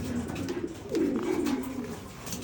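Racing pigeons at their loft, a soft, low pigeon coo rising and falling once or twice, faint and close, with no talk.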